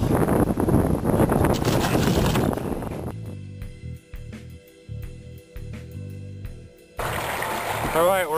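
Strong wind buffets the microphone with loud rushing gusts, dropping away in the middle and then returning just as strong.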